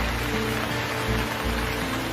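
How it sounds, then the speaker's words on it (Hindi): Heavy rain pours in a cartoon as a dense, loud, continuous hiss with a low steady rumble and a background music tone, and no voices. "फिर एक दिन जोर से बारिश शुरू हो जाती है।"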